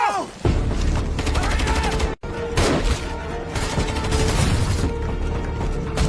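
Gunfire rings out in an action film scene about a mafia shootout, dense bursts of rapid shots and booming impacts, loud and close, with a brief cut of silence midway and a voice calling out amid the barrage.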